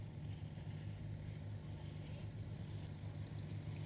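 Spitfire aircraft taxiing down the airstrip at the Flying Legends 2018 show at Imperial War Museum Duxford, a faint, steady low propeller-engine drone humming from a distance.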